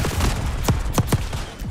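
Weapon fire in the video game Destiny 2 crackles like fireworks: a rapid burst of sharp popping shots followed by three louder, distinct cracks spaced about a beat apart, loud and close.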